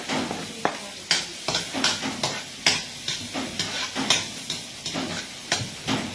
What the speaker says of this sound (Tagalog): Let's gisa the onion and garlic.